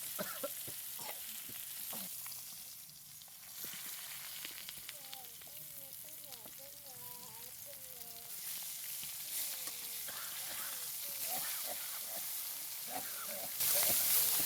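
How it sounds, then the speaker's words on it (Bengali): Fish frying in oil makes a quiet, continuous sizzle with occasional stirring scrapes, while a bird sings faintly in the background and someone speaks briefly. "মাছ ভাজা প্রায় শেষের পথে।"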